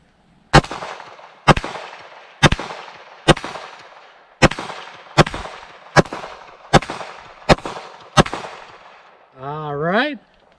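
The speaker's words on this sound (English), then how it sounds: "So let's rip these 10 rounds off and see how these do." Ten 9mm Hornady Critical Defense rounds are fired from a pistol fitted with a Dagger Defense DD14 weapon light: loud, sharp, evenly spaced reports roughly a second apart, each followed by a short decay, with a brief warbling tone afterward.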